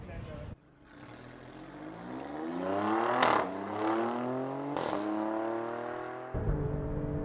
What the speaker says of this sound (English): Heading out onto Donington in the Stelvio for some practice before setting a time.